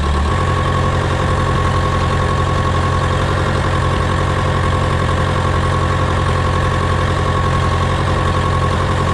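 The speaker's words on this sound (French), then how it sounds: "je tourne à 1200 tours moteur, je consomme pas du tout de gasoil" A farm tractor engine runs steadily at about 1200 rpm in a field during June work, a loud, even low drone with a constant idle-like hum and vibration throughout, with no voices.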